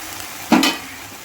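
Ginger, cumin and green chili spice paste hits a hot pan with a brief, bright sizzle and stir lasting under a second, then fades back to a quiet kitchen background.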